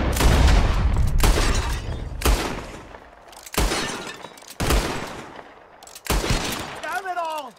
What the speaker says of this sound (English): Whoever shoots more of these bottles wins. Just draw your gun and aim when you're ready